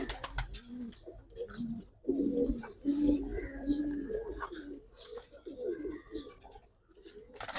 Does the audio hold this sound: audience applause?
no